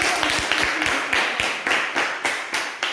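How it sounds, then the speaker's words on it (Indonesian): Classroom clapping in a rhythmic pattern, a string of sharp, fairly close claps in steady groups with no talk over them. "Tepuk tangan."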